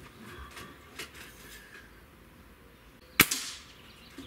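A single shot from a tuned Xisico XS28 .25 caliber break-barrel air rifle firing a large pellet gives a sharp, close crack followed by a brief fading tail, over faint background noise.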